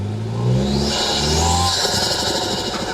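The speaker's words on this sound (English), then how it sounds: "You get the blow-off valve, you get the turbo spool." A Toyota 4Runner Trail Hunter with a raised air intake revs hard off-road, its engine note rising and swelling, followed by a rising whistle of turbo spool and a hissing blow-off as the revs fall away.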